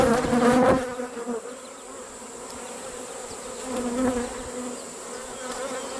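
Honeybees buzz in a droning swarm around an opened hive during an inspection, louder at the start and swelling again later, with no talk.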